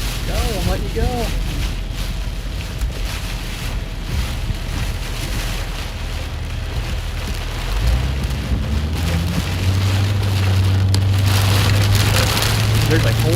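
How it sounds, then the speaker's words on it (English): Heavy rain during a storm chase drums hard and continuously on a vehicle, a loud steady wash with voices talking beneath it and an engine rising toward the end. "Oh, wow. That rain."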